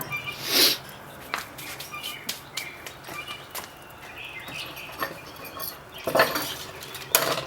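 A metal top grate set onto an XL Grill Dome kamado grill, producing a sharp metallic clank followed by lighter scattered clinks and rattles, then another couple of clanks near the end, with no talking.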